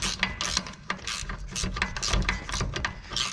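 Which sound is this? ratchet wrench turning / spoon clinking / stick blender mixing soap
ratchet wrench turning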